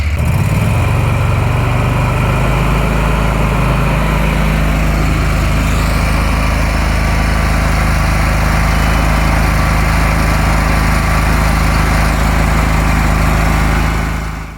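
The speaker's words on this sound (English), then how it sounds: "let the engine run at a higher RPM and for a longer period of time" A Kohler CH23 V-twin small engine after a head gasket replacement, running loud and steady at high RPM, a close, continuous droning roar that holds even for about fifteen seconds before easing off at the very end.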